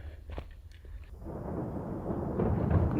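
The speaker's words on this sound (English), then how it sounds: "We have thunder back here." Thunder from a building storm at a campsite, a low rolling rumble that swells and grows louder over a few seconds after a quieter opening.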